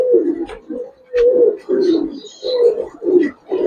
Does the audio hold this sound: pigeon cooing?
yes